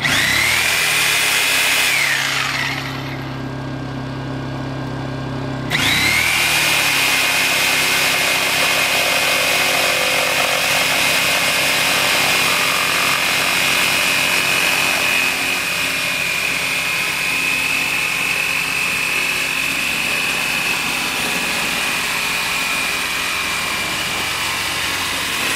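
A generator powering tools at a cabin being readied for a freezing winter drones loudly and continuously with a high whine, dips in pitch for a few seconds under load, then recovers and keeps running, with no talk.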